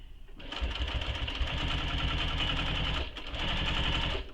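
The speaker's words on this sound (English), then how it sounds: "I'm just going to stitch all the way along." A sewing machine stitches along the seam of a vinyl bowler bag, a close, loud, rapid mechanical chatter that runs steadily, breaks briefly, then resumes.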